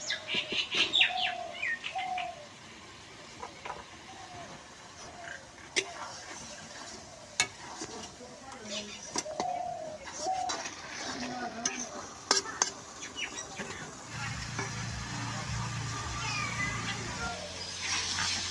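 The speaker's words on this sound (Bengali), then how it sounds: "এখন আমার মশলাটা ভাজা হয়েছে" Potatoes and spices fry in a pan as they are stirred, making a low sizzle with scraping strokes. A voice talks over it, and faint chirps are in the background.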